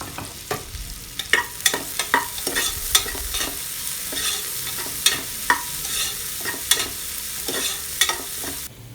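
Sliced onions and cashews sizzle in an oiled pan for palak pulao, stirred with a spoon that knocks and scrapes against the pan in uneven strokes over a continuous close frying hiss, with no talking.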